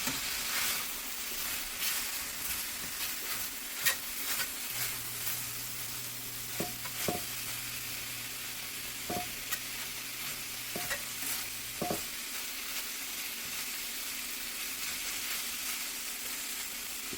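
Philly cheesesteak filling of steak and vegetables sizzles in a Lodge cast iron skillet while being stirred, with a steady frying hiss and a few sharp scrapes and clanks of the utensil against the pan.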